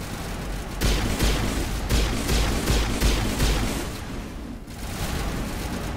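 Rapid bursts of pistol fire in the video game Mass Effect Legendary Edition, loud and dense, overlapping with other weapon fire and explosions in a continuous firefight.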